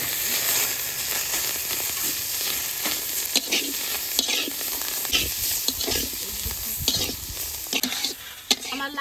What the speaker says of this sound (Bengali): আমার লাউ শাক ভাজা হয়ে গেছে ধনে পাতা দিয়ে